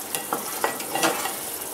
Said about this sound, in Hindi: मीडियम फ्लेम पे ही रखना है इसको। अब घी बनना स्टार्ट हो चुका है